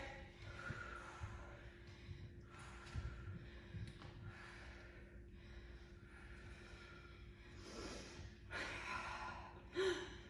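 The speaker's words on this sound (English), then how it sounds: "Everyone's breathing, right?" Heavy, audible breaths with gasps and sighs from people exercising during a HIIT arms and legs workout, irregular puffs and exhales over a steady low hum, one sharper gasp near the end.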